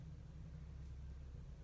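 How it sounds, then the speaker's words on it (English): A garbage truck rumbles outside, a faint, steady low drone of its engine heard from a distance with no voices over it. "Sorry about that noise. That is the garbage truck."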